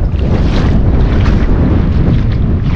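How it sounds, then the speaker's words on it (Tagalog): Strong wind buffets a boat at sea under an overcast, drizzly sky, a loud steady roar of gusts and microphone rumble mixed with water and wave wash throughout, with no talking. "Grabe, sobrang lakas ng hangin ngayon."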